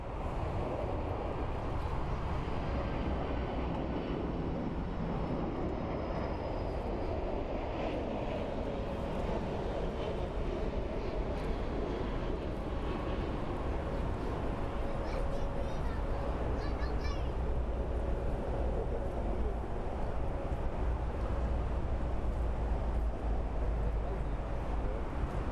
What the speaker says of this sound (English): And a beautiful landing of a Boeing 767.